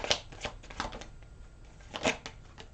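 Tarot cards being shuffled and drawn during a reading, heard as a few soft, brief riffling bursts and card snaps spaced across a quiet stretch.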